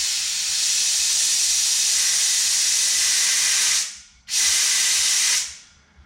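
Compressed air hissing loudly from a leaking tee in the turbo boost line of a VG30 Navara, a steady close rush that cuts out briefly, returns, then fades away.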